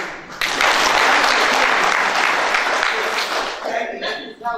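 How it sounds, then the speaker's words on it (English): An audience at a university human rights competition claps steadily in sustained, loud applause, tapering off toward the end. "we show our respect to people by clapping for them"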